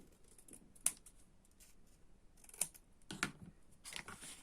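A pair of scissors bevels the edge of a paper flap on a handmade album, giving a few sharp, close snips spaced apart against a quiet room.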